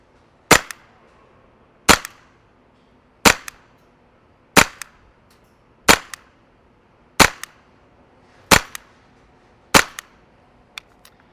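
Elite Force H&K MP7 Gen 2 green gas blowback airsoft PDW firing eight sharp, evenly spaced semi-auto shots about 1.3 seconds apart, each a loud crisp crack with a quick mechanical clack, over quiet background.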